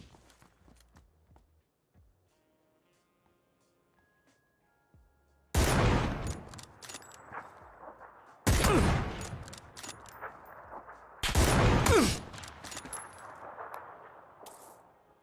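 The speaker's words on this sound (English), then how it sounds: "there's somebody up on the hill that starts taking shots at me" Three heavy bursts of gunfire in a shooter video game, spaced a few seconds apart, each loud and sharp with a trailing echo, after a quiet stretch of faint footsteps and clicks.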